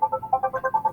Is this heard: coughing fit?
no